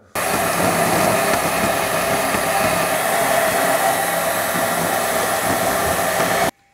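A steady, loud power-tool whine runs for about six seconds without a break while frame brackets are cut shorter on a 1955 Buick Special. The sound stops abruptly at the end.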